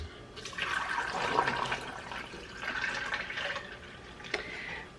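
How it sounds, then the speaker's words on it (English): Water poured from a tap or jug into tumbler cups, two separate gurgling fills of a few seconds each, close and fairly quiet with a brief knock between. "I'm actually gonna put 2 cups of water, same temperature in each 2 cups"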